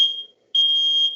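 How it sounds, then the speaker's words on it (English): A smoke alarm sounds during a virtual cooking class while quinoa steams, giving two loud, shrill, steady electronic beeps separated by a short silent gap. "it's my alarm"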